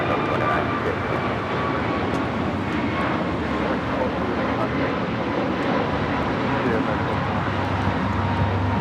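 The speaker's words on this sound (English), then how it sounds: "This is American Airlines 1221 taking off to Miami, Florida on the A321neo" An American Airlines A321neo jet takes off at Los Angeles International Airport, heard as a steady, broad roar of engine thrust and rushing air that holds at a constant level throughout.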